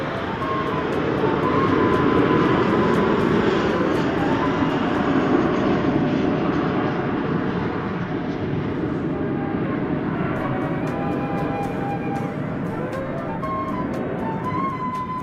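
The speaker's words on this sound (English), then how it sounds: "There's American Flight 1066 coming in from Mexico City, 737-800" An American Airlines Boeing 737-800 arriving at DFW Airport sends a loud, steady jet roar that swells early and then slowly eases off as it passes.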